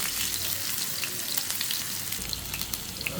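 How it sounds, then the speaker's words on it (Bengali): Dried chillies, chopped onion and garlic fry in hot oil as dal tempering, with a dense close sizzle and scattered sharp crackles and spits over the steady hiss, and no speech. "পেনে তেল দিয়ে দিচ্ছি দিলাম শুকনো মরিচ পেঁয়াজ কুচি আর রসুন কুচি দিয়ে দিচ্ছি"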